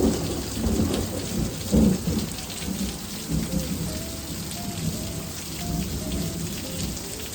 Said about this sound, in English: It's starting to get a little bit stormy here